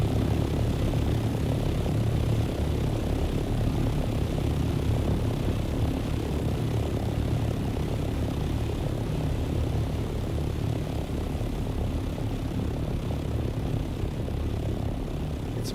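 A flying aircraft engine in Dune Awakening drones steadily and loudly, a continuous propeller-like roar and whir that holds unbroken with no talk.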